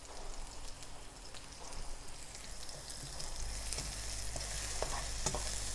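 Mushrooms and spring onions stir-frying in a hot pan, a steady crackling sizzle that grows louder and denser midway, with scattered sharp pops and scraping stirs close by.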